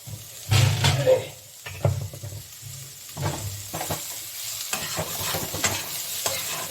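A spatula scrapes and stirs a sizzling mix fried with garam masala in a pan, with loud irregular strokes over a steady frying hiss and no talk.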